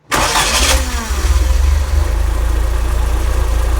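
Standard Atlas pick-up engine cranking and catching, then settling into a steady, loud low idle with a rhythmic throb, heard close up with no talking.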